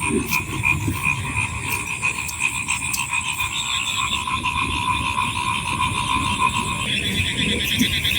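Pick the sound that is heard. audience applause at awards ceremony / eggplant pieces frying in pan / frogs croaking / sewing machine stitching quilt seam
frogs croaking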